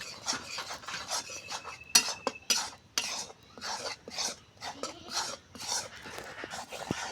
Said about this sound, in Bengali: দেখুন আমি এখন ধানের চালের গুঁড়িটা একটু ভাজে নিব